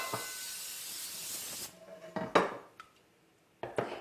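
A steady hiss of cooking spray on a baking pan runs for a second and a half, followed by a few light metallic clanks of the pan being handled.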